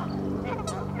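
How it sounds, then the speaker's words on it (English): Geese honking along the Rio Grande river in New Mexico, a loud close cluster of overlapping nasal honks filling the short moment, with no talk. "I was watching those geese go to town with each other"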